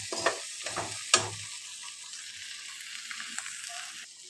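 Malabar spinach frying in a pan, a few spoon-and-pan stirring knocks early on, then a quieter lingering sizzle, close with no voices.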